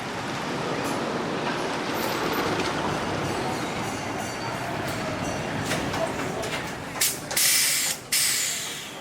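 A wooden roller coaster train called Cornball, with flaming-corn cars, rumbles along its track at an amusement park, a steady loud clatter and roar with a few sharp bursts of wheel noise near the end.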